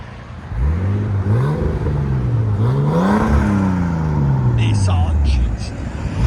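A 1989 Nissan Skyline Type-M with a high-flow converter reverses. Its engine hum rises and falls steadily and stays loud and close under a voice for the whole stretch.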